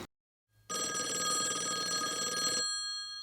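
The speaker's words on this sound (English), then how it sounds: "Here is a retro phone sitting between us on the coffee table." A retro telephone on a coffee table rings with a loud, continuous electric bell tone lasting about two seconds, close and alone after a brief silence.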